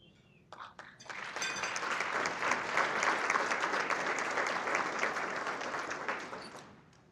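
An audience in a hall breaks into a warm burst of applause that swells quickly, holds steady for several seconds and then tapers off, with a few faint voices underneath.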